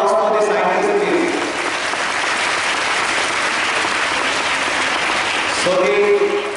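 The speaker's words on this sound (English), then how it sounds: "A big round of applause for the scientists, please." An audience gives a round of applause for scientists, with steady, full clapping filling the middle and a voice speaking at the start and end.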